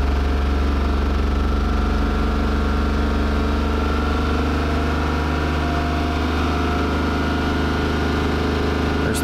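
A car engine runs at a steady speed of about 3,000 RPM, a constant loud drone with a firm low rumble and no change in pitch, heard alone with no talk.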